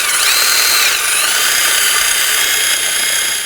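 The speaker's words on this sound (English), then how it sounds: "Just going to use a wire brush and just clean up some of the rust here." A power wire brush scrubs rust off the rear wheel hub of a 2000-2006 BMW X5, a loud, steady, high whine that runs nonstop throughout.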